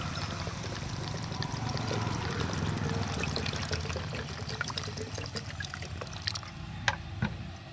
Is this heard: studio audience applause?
no